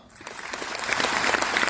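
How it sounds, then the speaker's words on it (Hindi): Applause from an audience at a direct-selling business seminar, swelling quickly from quiet into a dense wash of clapping that stays loud to the end. "तालियां।"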